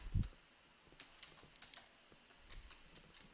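Keys tapped on a computer keyboard while a PowerShell command is entered, with sparse, quiet clicks in short bursts and one dull thump at the start.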